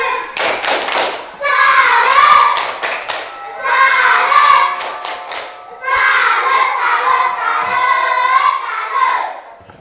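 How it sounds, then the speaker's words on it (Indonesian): Schoolchildren in a classroom perform a rhythmic patterned clapping cheer, loud and close, with bursts of sharp claps broken by chanted group voices. "Yuk kita tepuk salut untuk kelompok 3"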